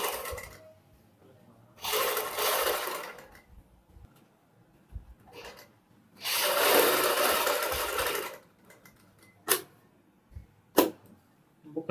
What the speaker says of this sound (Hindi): बुकरम के साथ साथ हम सिलाई लगाएंगे।